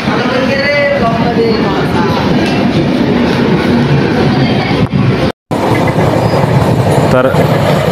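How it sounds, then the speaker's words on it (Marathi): Loud rumbling of a train arriving at a busy platform at Pachora station, with continuous rolling noise and crowd chatter and talking throughout. "ट्रेन आलेली आहे"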